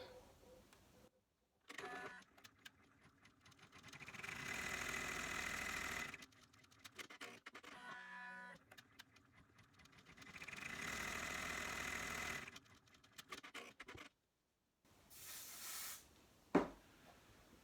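An embroidery machine runs the first placement stitching on fabric in the hoop for an in-the-hoop double zipper bag, two steady bursts of rapid mechanical stitching separated by quiet pauses and small clicks, heard close with no talk.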